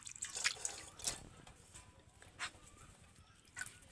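Brass and conch-shell items are scrubbed with a scouring pad and detergent and rinsed under water, giving soft, irregular splashes, drips and rubbing scratches at close range.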